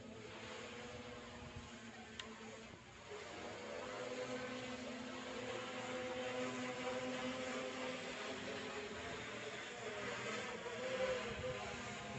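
A steady motor whine of an F550 drone flying back overhead drones on, growing slightly louder as it approaches, with a faint click early on and no voices.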